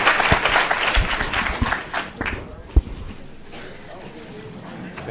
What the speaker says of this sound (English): let's give Dr. Appelbaum and Dr. Ahrens a round of applause